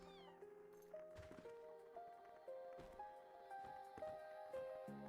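A cat meows in the fantasy role-playing video game Elin: several short, soft meows rise and fall over a quiet game backdrop with faint tonal sounds.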